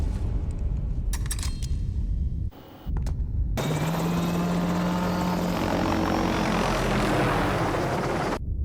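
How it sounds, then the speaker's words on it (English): Helicopter hovering over a building in the film Mission Impossible 2 (2000), a loud, dense rotor and engine roar that drops out briefly, then resumes with a harsher, fuller wash of blade noise that continues steadily. "You would think a helicopter hovering over the building would draw attention."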